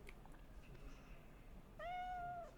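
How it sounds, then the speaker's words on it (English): A house cat in Cyberpunk 2077 gives one short, clear meow partway through, heard over a steady hum of game ambience with no talk. "Oh, there's a kitty cat."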